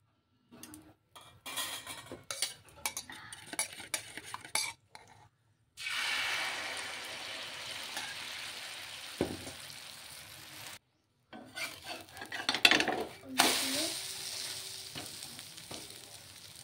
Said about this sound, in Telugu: చిమ్లోనే పెట్టుకుని ఇలాగా ఉడికించుకోవాలండి, లేకపోతే మాడిపోతుంది.